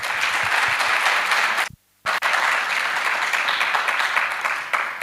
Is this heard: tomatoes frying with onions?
no